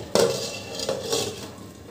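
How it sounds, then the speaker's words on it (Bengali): A metal lid is set onto a cooking pot of masoor dal, giving a close clatter followed by a couple of softer rattling clinks as it settles. "এবার আমি একটা ঢাকা দিয়ে দেবো।"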